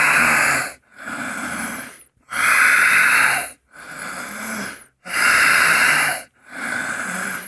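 Slow, deep breathing from a tai chi breathing exercise: three strong, hissing exhales alternate with softer inhales, each lasting over a second and close to the microphone.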